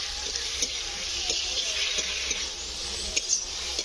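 Tomato, chili, turmeric and salt frying in a pan with already fried onion and garlic, a steady close sizzle with a few faint clicks of stirring, no talking.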